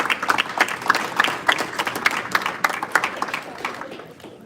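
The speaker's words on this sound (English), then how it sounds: "give a round of applause" An audience at a school board meeting gives a round of applause during a celebration of local schools: a steady, dense patter of many hands clapping, fairly close, that tapers off slightly toward the end.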